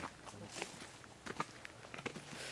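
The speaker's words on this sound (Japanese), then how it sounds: "足音が聞こえてます。" Footsteps at night during a ghost investigation at a shrine site, a series of faint, irregular steps scattered across a quiet outdoor background.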